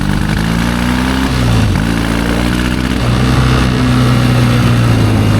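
A 1972 Triumph 650 Bonneville motorcycle engine, suffering runnability issues, drones loud and close while ridden, its pitch dipping and rising as the throttle barely opens, with no voices.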